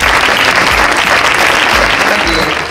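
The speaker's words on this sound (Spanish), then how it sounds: "para ellos un aplauso también" A loud, close wash of applause from a crowd at a botanical fashion show, many hands clapping continuously, with some murmuring voices underneath.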